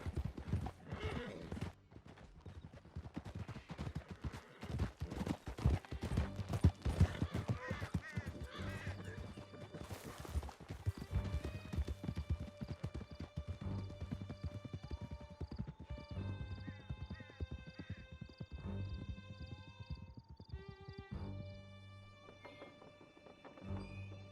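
Horses gallop hard through a canyon in the game Red Dead Redemption 2, with rapid drumming hooves, snorts and a whinny, later joined by steady tonal music under the running hoofbeats.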